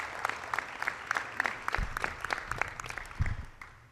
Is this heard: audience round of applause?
yes